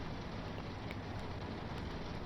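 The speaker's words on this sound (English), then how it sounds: "it is pouring down with rain" Heavy rain pouring down in the Train Sim World 4 railway simulator on a London Victoria to Purley run, a steady dense hiss of rainfall with low rumble underneath, continuous and even.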